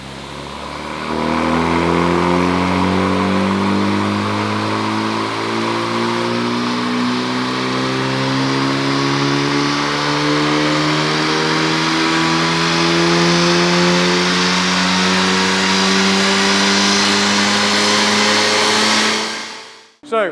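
A Honda Civic FL5 with bonnet down revs on a dyno in a long sustained pull, engine pitch climbing steadily and loudly for nearly twenty seconds before cutting off abruptly.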